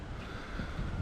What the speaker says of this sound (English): it's a windy day here in Waterfall Tea Estate